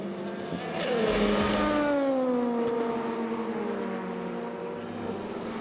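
Onboard a Team Penske LMP2 prototype racing at Le Mans, the engine drops sharply in pitch through a downshift then climbs again under acceleration, loud and close, with faint tyre noise.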